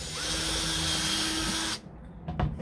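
A power drill whines steadily while boring a hole through plastic, loud and close, then cuts off abruptly, followed by a few faint handling clicks and knocks.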